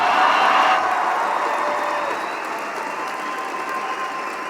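Audience applause at a law enforcement exploring conference opening show, with dense sustained clapping from a large crowd in a hall, loudest at first and then slowly thinning out.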